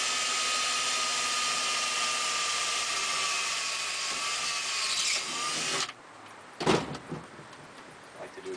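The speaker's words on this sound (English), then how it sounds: "I'm going to drill out." A power drill bores a hole through the metal cabinet of a Dixie Narco bottle vending machine, a loud, sustained high whine for several seconds, then it stops and a few clunks follow.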